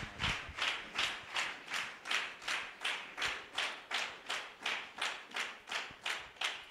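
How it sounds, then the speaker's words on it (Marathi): A church congregation claps together in a steady, even rhythm to welcome a preacher, about fourteen sharp claps in a row, fairly loud and with no voices over it. "आपण त्यांच्याकरता टाळ्या वाजवून स्वागत करूया"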